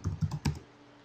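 A few quick clicks on a computer keyboard, four close, crisp keystrokes in a brief burst, followed by quiet.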